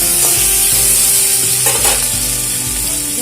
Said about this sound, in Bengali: দিচ্ছি লবণ হলুদ দিয়ে দিলাম এবারে ভালো করে আলুটাকে ভেজে নেব